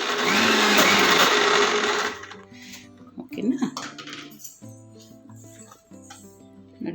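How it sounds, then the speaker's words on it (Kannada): An electric mixer grinder whirring loudly as it grinds goddu khara, a dry village-style spice mix, for about two seconds, then stopping, followed by lid and jar clatter while a person talks. "ಓಕೆನಾ ಗ್ರೈಂಡ್ ಮಾಡ್ತೀನಿ"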